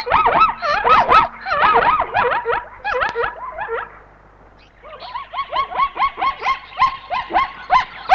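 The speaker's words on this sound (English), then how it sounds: "A herd of Burchell's zebra approach the water, uttering their odd, high-pitched barking call." A herd of Burchell's zebra at a waterhole gives a chorus of high, yelping barks in quick bursts, with a short lull midway before the calls resume, loud and close.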